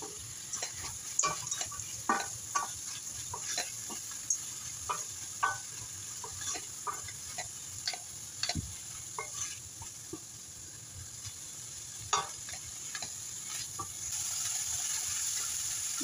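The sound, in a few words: sautéing mixed vegetables in a pan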